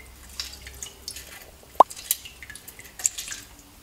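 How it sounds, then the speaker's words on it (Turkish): Juice from half a lemon squeezed over brain sitting in water with a pinch of salt, giving a scatter of faint, close drips and small plops, with one slightly sharper drop near the middle. "Ve yarım limonun suyunu beynin üzerine sıkıp"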